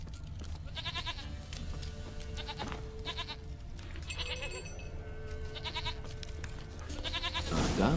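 Goat bleats from a farm scene in the video game The Witcher 3, a few short cries spread across the clip over steady game ambience and music, with no talking.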